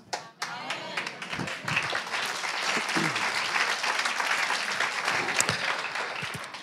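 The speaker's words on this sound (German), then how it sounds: "Applaus." A church congregation applauds steadily, dense clapping filling the space after a brief opening thump, with scattered louder claps standing out near the end.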